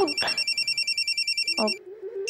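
A telephone rings with a rapid, trilling electronic pulse, close and clear, while a voice speaks briefly at the start and end.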